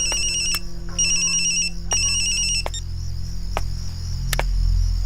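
A phone rings with a repeating electronic ringtone in bursts, loud over a low steady hum, in a Bhojpuri film scene.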